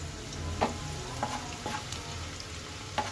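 Garlic sizzles steadily in a pan of hot oil while bathua greens are being cooked, a close, continuous frying hiss broken by a few soft pops and clicks of stirring.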